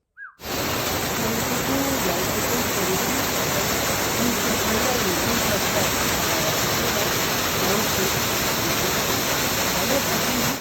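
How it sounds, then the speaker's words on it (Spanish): Cave waterfall in the Sala de la Verna underground chamber, a steady, loud, broadband roar of falling water that continues unbroken throughout. "esta es la cascada que os decía antes"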